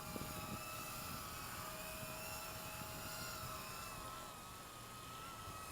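A FineCo FX2 Nano drone hovers with a thin, steady high-pitched propeller whine, faint and unbroken throughout.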